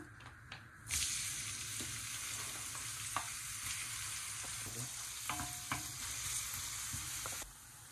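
Chopped onions sizzle and fry in a hot pan while being stirred, a steady bright hiss with scattered scraping knocks of the spoon, running loud and continuous before cutting off near the end.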